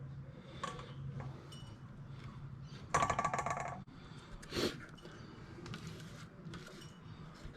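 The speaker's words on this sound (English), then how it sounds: "I'm going to tip my onion and potatoes into that strainer." Grated onion and potato tipped from a bowl into a strainer, giving a brief wet, rattling clatter partway through over a quiet kitchen background, with a second smaller splat shortly after.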